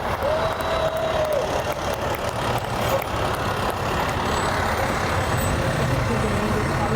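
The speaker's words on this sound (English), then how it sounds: "This is John Davis from Sutton driving a 1966 Ford pickup, 1966 Ford pickup truck." A 1966 Ford pickup truck rolls along in a fall foliage festival parade, its engine a steady, moderately loud rumble under constant crowd noise and outdoor bustle, with a faint brief whine partway through.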